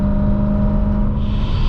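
A procharged BMW M3 engine held at high revs, a loud continuous droning roar with a strong steady tone and gritty low rumble, close and alone with no talk.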